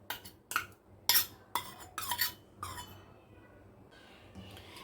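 Date paste being stirred into a roasted laddu mixture in a pan, heard as a few sharp scraping and clinking utensil strokes in quick succession, then quieter shuffling toward the end.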